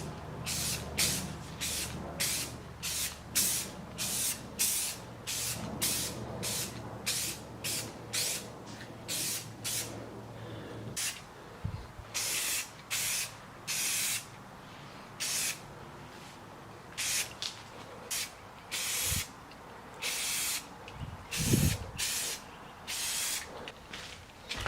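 Yellow spray paint going onto a masked engine cover for a BMW 335i, laid down in many short, loud hissing bursts with brief pauses between, close by and without talk.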